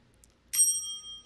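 A single bright bell ding rings out once after a quiet pause, its clear tone ringing on and slowly fading.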